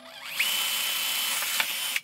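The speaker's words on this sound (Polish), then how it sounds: "Bierzemy wiertło numer 5" Power drill with a size 5 bit boring through the plastic of a VW Golf interior ceiling lamp housing: a brief, close, high whirring whine with a slight pitch wobble as the bit cuts, ending abruptly.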